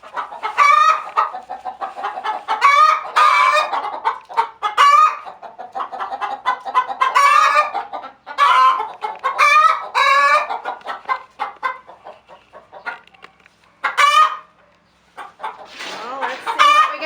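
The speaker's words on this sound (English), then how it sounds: "We got a couple of proud hens in here." Hens in a coop cluck and cackle in repeated loud bursts close by, rising into drawn-out proud calls, with short quiet gaps between the outbursts.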